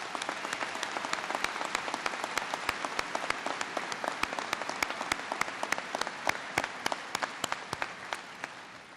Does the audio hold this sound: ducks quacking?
no